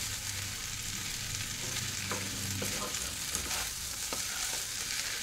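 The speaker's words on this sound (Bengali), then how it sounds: "এখন এটা নাড়াচাড়া করে নামিয়ে নেব" Food frying in a pan being stirred, with a continuous low sizzle and a few soft scrapes and clinks of a spoon against the pan, fairly quiet and close.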